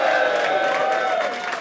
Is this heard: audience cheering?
yes